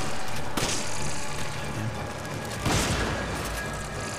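Flash grenade blasts in Resident Evil 5: two sharp broadband bursts, one early and one later, over a steady din of game noise.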